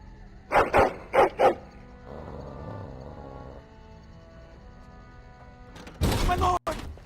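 A dog in the Dragon Age: Origins game reacting to a door: a few sharp, close barks at the start, then a low rumbling growl, and a loud burst of noise near the end.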